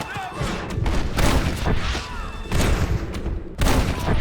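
Gunfire in the Red Dead Redemption video game during a shootout while explosives are being set: repeated loud close shots and thuds in bursts, overlapping shouting voices.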